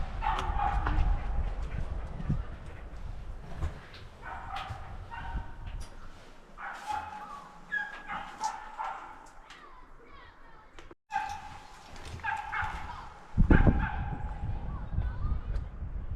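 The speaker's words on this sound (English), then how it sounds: "Bit of a dog unhappy down there by the sounds." A dog barks and whimpers at a distance among outdoor ambience in Clocaenog Forest, UK, with a person speaking at times over it.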